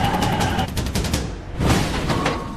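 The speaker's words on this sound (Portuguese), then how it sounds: "Nós ouvimos essa grande explosão que fez com que as paredes e as janelas tremessem." In a dramatized air-disaster reenactment at Quincy airport, a plane crash sets off a heavy, continuous roar of crackling blasts and rumbling booms that swells again after a brief dip.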